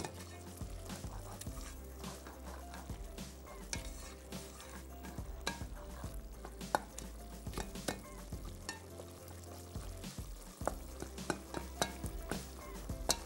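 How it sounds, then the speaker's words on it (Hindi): Rice being stirred in a pot with yogurt, masala, tomato and green chilli, a faint steady sizzle under repeated scraping and clinking of a spoon against the pan, with no talking. "बस एक दफ़ा इसको मिक्स कर दें ताकि राइस जो है वो पकने का अमल शुरू हो जाए"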